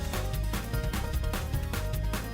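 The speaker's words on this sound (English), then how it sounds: "This is shout music." A short burst of dense, loud, driving gospel shout music in church, with heavy low end and rhythmic pulses, sounding like a full band playing at high energy.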